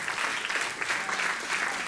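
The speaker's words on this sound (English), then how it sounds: "Now, is that the obligatory clap?" Audience clapping during a church sermon, a soft, steady patter of many hands at a moderate distance with no voices over it.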